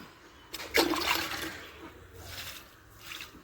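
Liquid is poured onto a chili plant in a kitchen-waste vegetable garden, giving a brief splashing trickle near the mic with a couple of softer follow-up pours.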